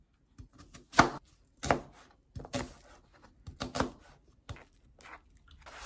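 A knife chops onion on a cutting board for a stir-fried squid dish, giving a series of separate, fairly crisp thuds with short pauses between them, quiet and close, with no talking.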